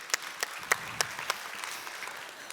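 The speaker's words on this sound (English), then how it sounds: "give yourselves a bit of a round of applause" Sparse, scattered clapping from a morning conference audience in Perth, a handful of distinct claps over a low room hum, fairly faint and thinning out.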